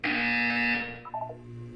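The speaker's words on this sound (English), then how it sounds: "You will hear a buzzer." In the game Portal 2, a loud electronic buzzer sounds as one sustained harsh tone for under a second, followed by a brief descending sequence of softer beeps and a lingering low hum.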